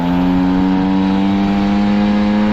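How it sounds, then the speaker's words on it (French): An engine held at full throttle drones loud and close, a sustained steady roar with strong even harmonics and no letup, the rev level barely shifting. "Là, j'accélère à fond pour moi."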